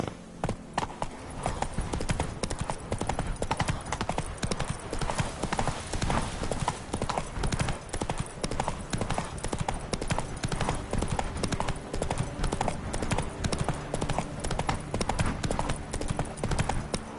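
Steady, driving hoofbeats ring out as Roach gallops through The Witcher 3, loud and close, with a regular rhythm that keeps going the whole time and little else over it.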